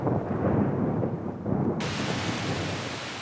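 Heavy rain pours steadily on open wild ground while a deep roll of thunder rumbles underneath, then the downpour turns brighter and hissier.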